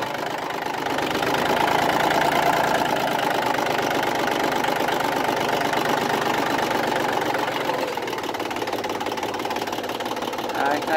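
An Iseki TA312 compact tractor engine idles steadily and close, a loud continuous knocking diesel rumble with a fast even beat, while someone talks over it.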